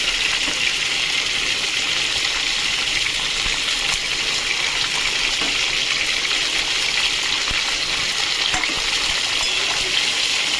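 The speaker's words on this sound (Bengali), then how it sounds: "এবার এটাকে ভাজবো। ভেজেছি।" Tomato and ginger fry in a pan with a loud, dense, even hiss that holds steady throughout, close up with no talking.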